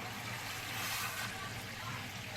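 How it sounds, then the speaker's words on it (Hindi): A jug of water pours into a pot of mutton haleem with a steady, hissing splash that runs unbroken at an even level. "मैंने पानी डाल दिया है।"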